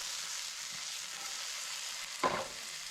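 Vegetables for Cantonese crispy noodles sizzling in a hot pan, a soft, even hiss with a single brief scrape or toss near the end.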